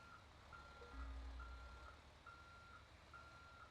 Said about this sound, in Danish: Hey, så skal man lige huske at bakke under traileren.